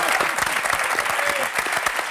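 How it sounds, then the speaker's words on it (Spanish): Studio audience applause at a live Argentine event, a dense, steady wash of clapping hands close and loud for the whole stretch, with scattered cheers mixed in. "Un aplauso para varones también."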